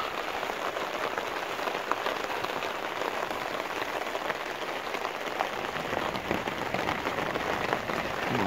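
Heavy rain pours down at a carp fishing spot by a gravel pit, a dense, even hiss of drops hitting surfaces that stays constant and close throughout, with no voices.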